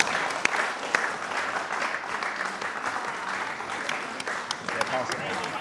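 Wedding guests applaud in a steady, moderately distant patter of clapping with a few sharper individual claps standing out, while people talk over it.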